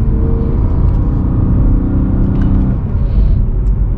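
BMW M3 E92 engine pulling hard in its most aggressive drive mode on a city street, a loud steady low rumble close by with a rising strained tone, no talk over it.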